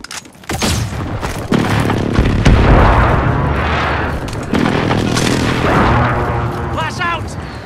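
Air strike explosions in the Call of Duty: Modern Warfare multiplayer game: heavy, loud booms and rumbling blasts roll on for several seconds, with radio-style voices speaking over the din.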